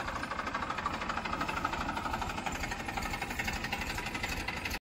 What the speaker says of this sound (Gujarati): જો કારુભાઈ ટ્રેક્ટર લઈ લીધું છે